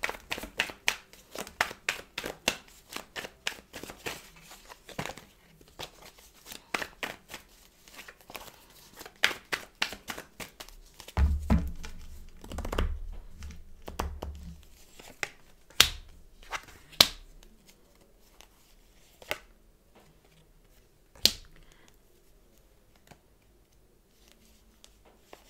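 Tarot cards being handled and shuffled, heard as quick crisp flicks and riffles close by, fast at first, then thinning out to a few sharp slaps with quiet gaps between them.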